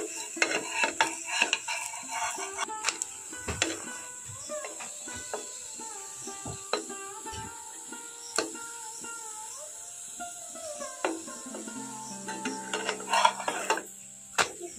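A thin Bengali-style paratha frying on high heat in a pan, flipped and brushed with oil, with a faint sizzle beneath clattering taps and scrapes of a utensil against the pan.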